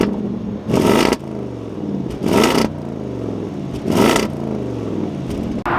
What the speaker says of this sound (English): Give you guys an exhaust clip in a second